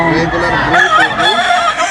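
A gray gamecock bullstag at a gamefowl seller's in Bocaue, Bulacan crows loudly and close by, with one long, strained, wavering call filling the moment.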